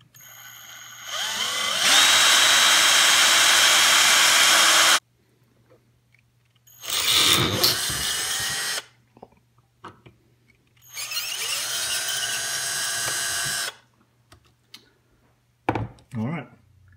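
Power drill boring a hole with a 1/8 inch bit during muzzleloader building, three loud sustained whirring bursts of a few seconds each with pauses between, ending in a brief final blip.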